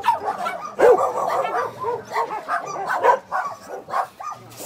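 Many dogs at a partially burnt kennel in Santo Tirso, Portugal, bark, yip and whimper together in a continuous, overlapping chorus, loud and close.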